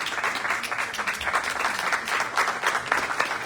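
Steady, dense applause from a large audience at a stage event, many hands clapping together at a constant level for a few seconds with no pauses.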